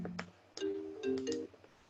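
A mobile phone ringtone chiming a short series of tonal electronic notes, clear and close, in two brief musical phrases.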